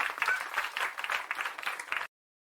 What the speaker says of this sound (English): Can you clap your hands for red?